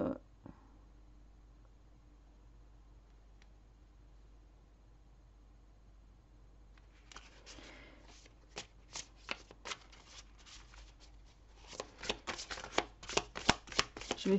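Tarot cards shuffled close up against a low steady background hum, faint at first and then building into quick repeated riffling snaps that grow louder toward the end, with no talk.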